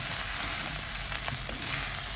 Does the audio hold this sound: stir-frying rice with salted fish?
yes